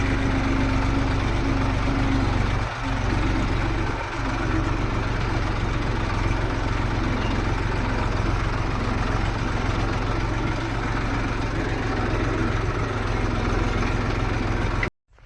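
A tractor engine idles steadily with a constant low rumble, close by, with a couple of brief knocks early on and an abrupt stop at the end.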